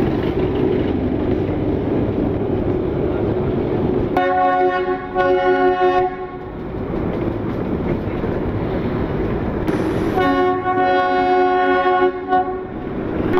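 Darjeeling toy train running slowly on the line from Darjeeling to Kurseong, with a steady rumble of wheels and carriages and two loud, sustained horn blasts sounding near, one at about four seconds and another toward the end.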